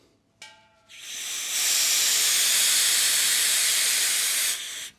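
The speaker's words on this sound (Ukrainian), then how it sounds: "Тепер я зніму редуктор і подивимось, що буде відбуватись тоді. Відкриваю балон." A large gas cylinder is opened with no pressure regulator attached, first a small click and short hiss, then a loud, steady rushing hiss of escaping gas that holds for several seconds before cutting off abruptly.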